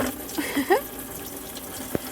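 Fluid drains from a Volvo 240 into a tray, a close, short gush and trickle of liquid with a few brief vocal exclamations over it.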